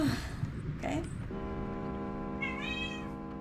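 A cat meows in the video game Vampire: Bloodlines, a couple of short cries early on, then a sustained tonal drone with a rising, wavering meow-like tone near the end, all fairly faint.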